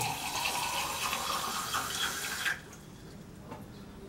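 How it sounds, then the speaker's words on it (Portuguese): Tap water runs from a faucet as a steady rushing stream for a couple of seconds, then stops abruptly, leaving quiet room tone. "aqui a gente vai pegar a água da torneira"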